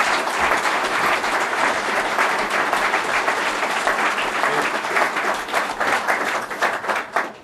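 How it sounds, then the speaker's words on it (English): Delegates at a 2007 BNP party conference in Blackpool give sustained, loud applause, dense clapping from a large hall audience holding steady with slight flutter toward the end. "round of applause for BNP Chairman Nick Griffin."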